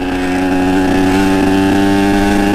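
A Kawasaki KX 85 motocross bike engine that is struggling to restart drones loudly and steadily up close, with no break in the sound.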